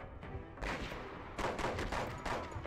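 Bursts of gunfire from the video game Conflict: Desert Storm 2, three or four loud volleys in quick succession with ringing tails, no talk over them.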